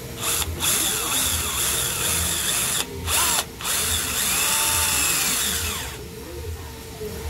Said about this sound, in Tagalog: Babarinahan po natin yung butas, yung papasukan ng bolt.